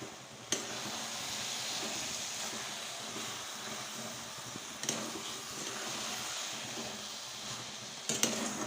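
Ghee and cardamom being stirred into grainy carrot halwa in a pan, a steady soft scraping and sizzling hiss with occasional metallic clinks of the spoon against the pan, fairly close and continuous.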